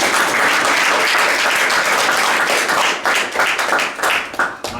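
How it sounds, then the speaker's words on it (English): Sustained audience applause from a large crowd at a speaking event, dense steady clapping throughout that thins slightly toward the end. "You need to give yourselves another round of applause."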